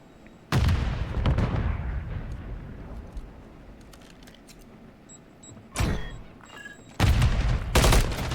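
Grenade blasts in a competitive video game match: a sharp loud explosion with a decaying rumble, followed later by further bursts of gunfire and blasts.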